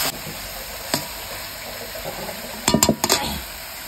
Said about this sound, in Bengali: চলো চিকেনটা ভালো করে কষিয়ে তারপর একটু কষা রান্না করবো।